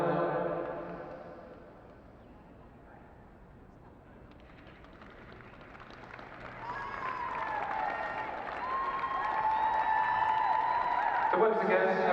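Applause at an under-16 girls' inter-county schools football trophy final for the runners-up, Sussex County Schools FA, builds from quiet to steady crowd clapping in a large room, with a voice talking over it at the start.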